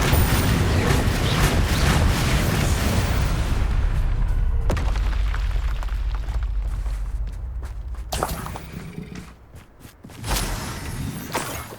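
Spells cast during combat in Hogwarts Legacy on PS5 burst out as loud, heavy booms and rumbling blasts, dense at first and then thinning into sparser impacts and a final surge.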